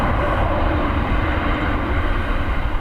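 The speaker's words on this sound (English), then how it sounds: "Heavy braking from that Ryanair, possible Sierra 4 exit." A Ryanair airliner braking heavily after landing at Dublin Airport gives a loud, steady roar of engines and rushing air throughout this brief moment.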